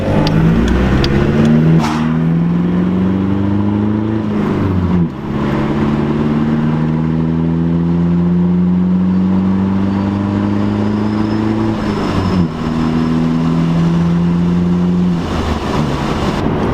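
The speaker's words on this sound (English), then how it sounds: "Oh, that's what a car sounds like." Diesel VW Golf TDI with a 90 hp engine revving and accelerating hard in repeated long pulls, the pitch climbing steadily through each gear before short breaks at the shifts, loud and close from inside the car.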